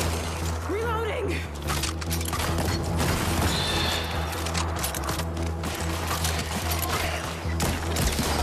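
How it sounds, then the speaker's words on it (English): Weapon reloading in the VR shooter After the Fall: repeated mechanical clicks, clacks and metallic creaks in an irregular rhythm across several seconds, close and fairly loud, mixed with scattered gunfire and other game noise. "Reloading."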